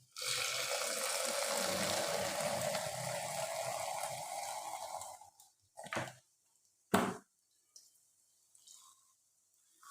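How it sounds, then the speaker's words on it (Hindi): Dew sherbet poured from a plastic bottle with a pierced hole into glasses makes a steady close liquid stream for about five seconds, then a few brief splashes and drips before quiet. "ये मैंने ड्यू का शरबत लिया और इसके ऊपर बोतल को ये सुराख कर ली है, तो इससे ऐसे ही डालेंगे।"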